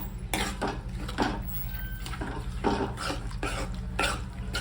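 Chili powder being mixed by hand into instant mango pickle in a bowl, giving repeated soft scraping and clinking strokes at a steady rhythm over a low background hum, close and moderately quiet.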